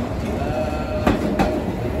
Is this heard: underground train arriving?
yes